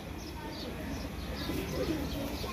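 Pigeons coo softly beneath steady background noise while people talk nearby.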